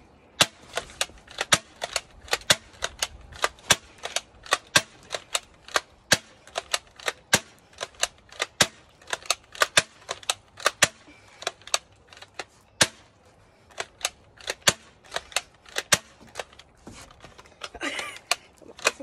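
A Bug-A-Salt 3.0 salt gun fires shot after shot of salt, each a sharp snappy crack close by, in an irregular string of dozens of pops across the whole stretch, with faint handling sounds in between.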